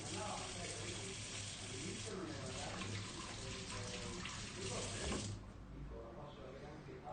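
Water from a kitchen tap runs steadily for a few seconds while hands are washed, a close, continuous rushing hiss that eases off near the end.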